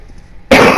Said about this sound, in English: I didn't cut out me coughing on the mic though